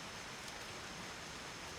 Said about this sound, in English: It's currently raining, so you might hear that in the background.